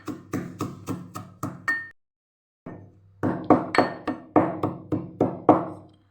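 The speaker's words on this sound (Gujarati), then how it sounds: "તો થોડું આખા પાકું આપણે ખાંડી લેવાનું છે" Whole coriander seeds and black pepper are coarsely pounded for Kathiyawadi vadina gota, a close series of sharp rhythmic thuds, one after another, that stops for a moment and then resumes more heavily.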